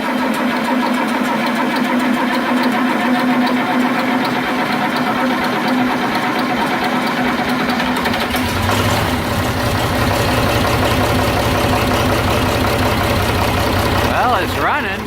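A John Deere 4010 tractor engine runs with a steady mechanical clatter, then cranks and catches partway through into a louder, rougher idle, while someone talks over it.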